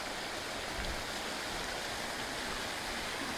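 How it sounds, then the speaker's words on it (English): A waterfall at a harbor holiday display rushes with a steady, dense broadband wash, constant and unbroken throughout, with no voices over it. "Look at that waterfall."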